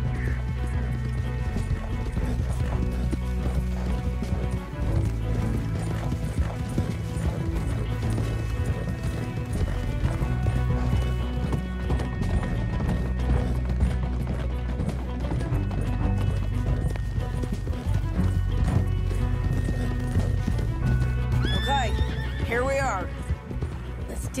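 Horses gallop with continuous clip-clop hoofbeats and loud neighs and whinnies in the Red Dead Redemption II video game, with other game sounds mixed in throughout.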